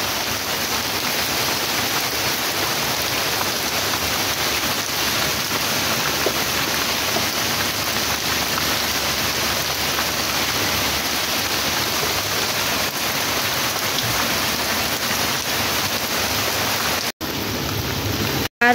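Heavy, continuous rain pouring down after a hot day, a dense steady roar close by with no pauses until it ends abruptly.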